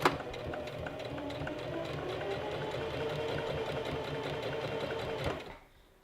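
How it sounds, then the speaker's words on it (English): A sewing machine stitches the fabric edges of a gathered maxi dress in one steady, quiet, close run of rapid mechanical clatter that stops abruptly near the end. "Now we're going to sew these little edges down to the end of our back"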